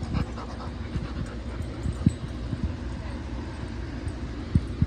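Several dogs pant rapidly close by in a boarding setting, a steady breathy rhythm with a few louder thumps, while a person talks over them.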